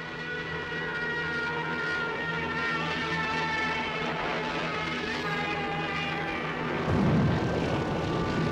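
A fighter plane's engine drones steadily and loudly as it flies, a continuous roar with a slight swell near the end and no talk.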